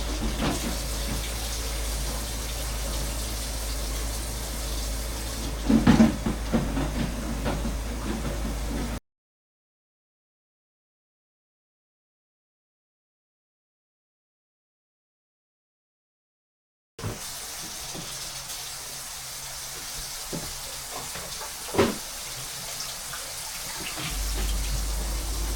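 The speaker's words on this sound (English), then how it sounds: "Then I just like to make sure I rinse some of that starchy off." Running tap water rinsing a batch of large sweet potatoes in a sink, a steady hiss with small knocks and splashes, then silence for several seconds before the flow resumes, with no talking.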